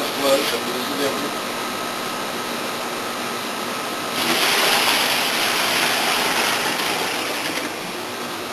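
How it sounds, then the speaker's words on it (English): Hot water poured into a mash tun for all-grain beer brewing, a steady broadband rushing pour that swells louder midway, then tapers slightly toward the end, with no talking. "I'm going to pour it in the mash tun"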